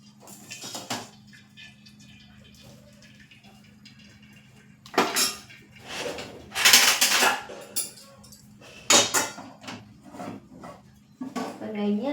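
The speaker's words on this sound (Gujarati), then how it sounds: "હવે આપણે આ રીતે કાળાવાળા વાસણમાં તેને નીકાળી લેશું" Cooked wheat-flour noodles are moved from the cooking pan into a black pot in a kitchen: metal utensils clink and scrape in a few loud bursts against the pot, with quiet gaps between.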